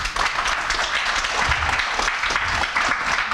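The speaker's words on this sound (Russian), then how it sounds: "Аплодисменты Ивану." A room full of people applauds a speaker after a lecture, dense steady clapping that holds at an even level throughout.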